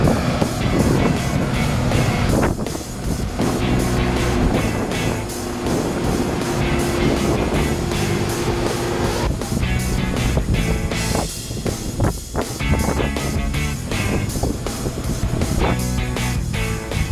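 Combine harvester cutting rapeseed in a field, with steady loud machinery drone and wind rumble running continuously throughout, a faint tonal whine rising in the middle, no talk.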